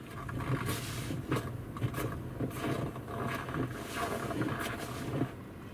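Snowy village ambient soundscape played through the infotainment system of a 2020 Hyundai Sonata: rhythmic crunching, creaking sounds like footsteps in snow over a low wind-like hiss, heard inside the car.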